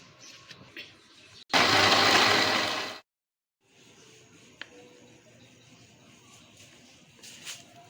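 Electric grinder whirring loudly for about a second and a half as it blends salt, red chilli, turmeric and a little water for a mustard greens saag masala, then cutting off abruptly before quieter kitchen background sounds return.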